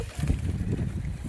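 Strong wind blows across a rooftop garden, buffeting the microphone with a close, low rumbling roar that surges unevenly over a moment.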